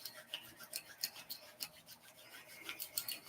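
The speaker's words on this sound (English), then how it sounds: "rubbing the palms together, let's create some energy" Palms rubbed briskly together during a relaxation exercise, a soft, quiet rasping swish repeating in quick irregular strokes, close and alone with no talk.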